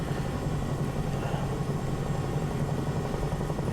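A Bell 222 helicopter hovers in Microsoft Flight Simulator 2024 during a Yosemite Valley rescue, giving off a constant, loud, close rotor-and-turbine drone that holds steady without any break.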